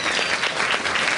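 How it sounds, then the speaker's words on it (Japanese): A theater audience at the Turtle Talk show in Tokyo DisneySea applauds together, producing a steady, dense, loud wash of clapping throughout. "みんなリンカに拍手してくれ"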